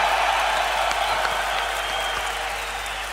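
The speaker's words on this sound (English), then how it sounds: "it seems like they love you too, based off of their cheering" A tournament crowd at the DreamHack Masters Malmö 2016 Counter-Strike event applauds and cheers in a big arena, a dense, steady wash of clapping that slowly fades a little toward the end.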